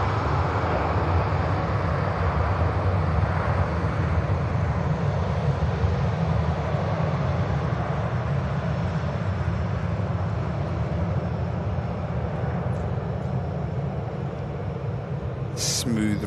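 A Ryanair airliner takes off at Manchester Airport, a continuous loud, low jet-engine roar that stays strong and steady throughout, with faint talk underneath.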